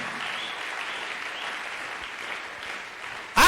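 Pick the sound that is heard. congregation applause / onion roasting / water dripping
congregation applause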